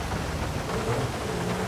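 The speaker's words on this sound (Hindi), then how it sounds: "ये तो और बारिश स्पीड ही होते जा रहा है" Heavy rain in the video game GTA V, a dense, steady hiss of downpour with a low rumbling undertone, loud and continuous with no talk.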